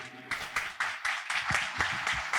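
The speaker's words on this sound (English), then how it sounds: "Keep the applause going there for O'Dane and the Queen's Class Dancers" Audience applause at a national music awards show for a dancer and a dance troupe, a steady wash of many hands clapping at moderate level with a few sharper bursts.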